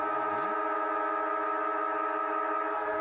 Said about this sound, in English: There we go, siren sounds.